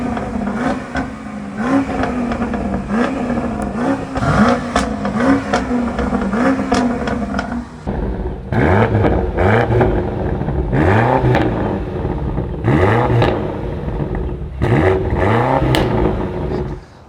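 A BMW X6M fitted with an H-pipe exhaust revs loudly nearby. A steady, burbling idle drone gives way to a series of sharp throttle blips that rise and fall repeatedly.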